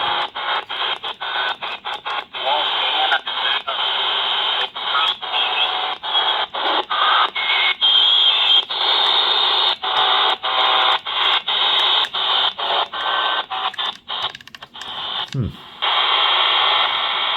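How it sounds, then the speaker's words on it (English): Shortwave radio interference fills the whole stretch: loud, dense static hiss with rapid rhythmic clicking pulses, broken by a brief dropout and a low swoop near the end. "There's interference still coming in, so we're going to get out of that."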